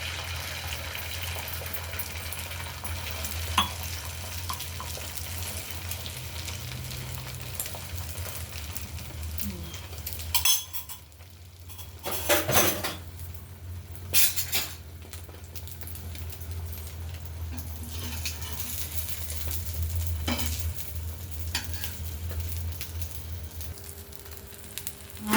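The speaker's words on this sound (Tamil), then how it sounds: "ஆயில் போட்டேன் கல்லில். ஒரே ஒரு ஆம்லேட் என் பையனுக்காக." An omelette with onion and green chili frying in oil on a griddle, giving a low, continuous sizzle close by, broken midway by a few brief louder clatters and scrapes.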